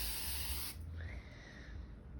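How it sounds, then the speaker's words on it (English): Tresemme Extra Firm Control hairspray sprayed in one close, loud hissing burst that stops abruptly, followed by quiet room tone. "Any sort of like strong hold hairspray is good."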